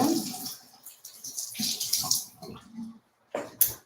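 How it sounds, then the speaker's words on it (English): A small skincare tool is rinsed under a running tap during a nighttime routine, water splashing and trickling in uneven bursts with brief pauses, fairly close and moderately loud, with no talking. "I usually wash it right before I use it just so it's very clean and doesn't have any bacteria"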